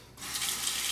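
Tap water runs steadily as a razor is rinsed at a bathroom sink after shaving, a close, continuous hiss that starts abruptly after a brief quiet moment.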